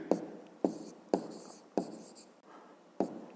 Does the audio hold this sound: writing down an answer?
yes